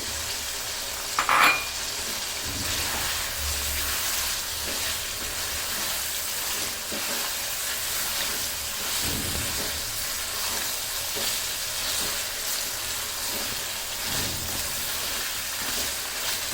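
Green chilies frying in a pan for beef tehari, a constant loud sizzle and hiss with occasional scraping stir strokes, and a brief clatter near the start.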